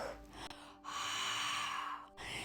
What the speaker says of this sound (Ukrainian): можна ще додати глибокий вдих і видих зробити через ха